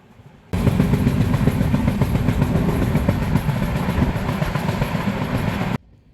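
Passenger train running between Kolkata and Alipurduar, heard as a steady, loud rolling rumble with rattling carriage noise that starts abruptly, holds for about five seconds without voices, then cuts off.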